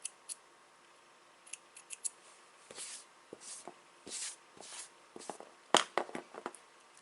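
Quiet, close snips of scissors cutting a bracelet cord, a scattered series of short crisp clicks and cuts with small handling rustles between them, no talking.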